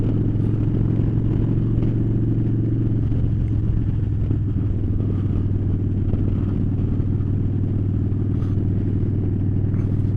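A motorcycle cruising along a winding road sends out a steady, loud engine drone with continuous low rumble and road and wind noise the whole way through, and nobody speaks.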